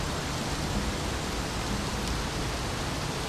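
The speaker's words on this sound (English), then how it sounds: "Okay, we have rain." Rain in the video game Xing forms a constant, dense hiss with no pauses or individual drops, fairly loud and alone without voices.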